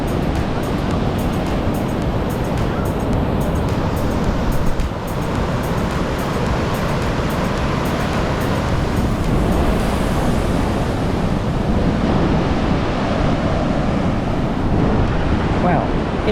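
Rough sea surf at Kata Beach, Phuket, roars in a constant heavy wash with wind buffeting the microphone, loud and unbroken throughout.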